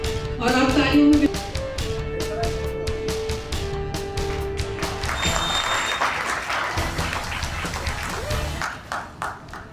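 Applause from an audience at a Teachers' Day honouring ceremony for teachers in Vasant Kunj ward, steady dense clapping throughout with crowd noise and voices mixed in, tapering slightly near the end.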